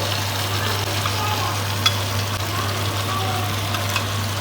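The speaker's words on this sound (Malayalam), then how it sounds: "ഏകദേശം പകുതി ഫ്രൈ ആയിട്ടുണ്ട് കേട്ടോ ചിക്കന്" Chicken for a wedding-style chicken roast frying in a pan with tomato, giving a steady close sizzle under a constant low electrical hum, with a couple of faint clinks.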